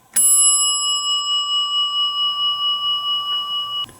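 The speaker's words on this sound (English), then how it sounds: "first on the left, we have a Houghton bell," A Houghton elevator bell, whose striker is faulty, rings loud and close in one continuous, fast-pulsing ring for more than three seconds and then stops sharply.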